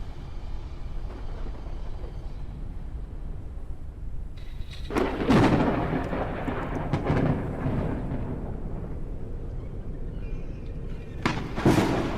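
A thunderstorm rages in a video game. Low rumbling builds under the ambience, and two sharp, loud thunder cracks break out, one in the middle and one near the end.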